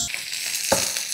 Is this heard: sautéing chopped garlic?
yes